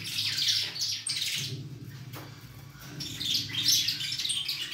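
Saffron finches (canário da terra) chirp near a cage in bursts of bright, rapid tweets, fairly close and clear, with brief gaps between phrases.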